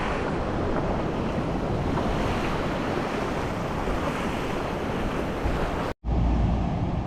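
Sea waves washing the shore at low tide on a Philippine fishing spot, a continuous loud roar of surf mixed with heavy wind buffeting the microphone, briefly cut near the end.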